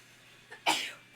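A single sneeze, close and sudden: a short intake of breath, then a sharp explosive burst that trails off quickly against a quiet background.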